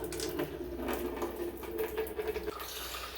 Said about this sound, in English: so open the faucet and that'll break the airlock